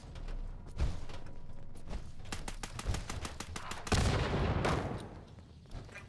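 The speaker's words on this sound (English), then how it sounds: "Shots being fired." Video game gunfire: bursts of rapid shots with sharp cracks and a louder heavy volley, moderately distant, with no talking.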